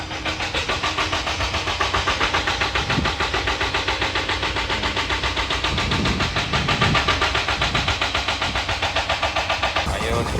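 A motorcycle engine labours up a steep wooden ramp, loud and close with a pulsing mid-range drone that rises and falls as the throttle works, while voices call out over it.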